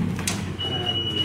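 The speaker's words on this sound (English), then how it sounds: "The door's got closed first before we can select the floor." An Otis traction freight elevator door slides shut in a university hall, a brief rumbling mechanical slide with a steady tone running underneath, close by and fairly loud with no voices.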